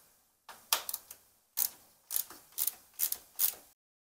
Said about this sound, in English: Take your hex, remove the hard top hex bolts.